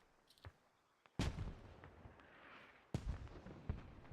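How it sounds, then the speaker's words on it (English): Mortar shells land in the military shooter Squad. Two heavy, booming impacts come a couple of seconds apart, each followed by a rumbling decay, with fainter distant thumps around them and no talking. "mortars coming down now"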